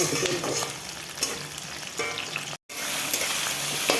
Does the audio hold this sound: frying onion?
yes